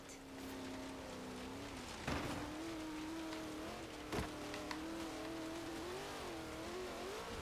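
Steady engine drone from a car in Forza Horizon 3, holding a fairly even pitch with slight rises and dips as the revs shift, plus two sharp clacks or bumps along the way, quiet in the mix.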